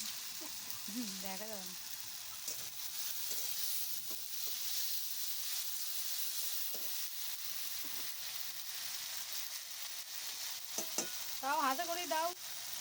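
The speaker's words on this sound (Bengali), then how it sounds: "সেই পেস্টটা পেঁয়াজের সঙ্গে খুব ভালোভাবে ভেজে নিচ্ছি।" A paste of ginger, garlic, poppy seed and mustard fries with onions in a pan for boal fish rasa, giving a soft, continuous sizzle and hiss with occasional stirring scrapes. Faint voices rise briefly near the start and the end.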